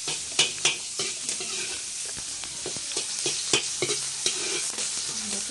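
A heated frying pan sizzles loudly and close for escabeche, a dense hiss punctuated by a series of sharp knocks and scrapes from a utensil against the pan.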